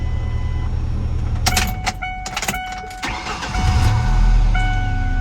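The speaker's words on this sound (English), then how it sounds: "just gonna start the car" A Ford Ranger engine is cranked and catches, with bursts of starter noise around the middle followed by a steady, louder idle rumble close by, and no talking.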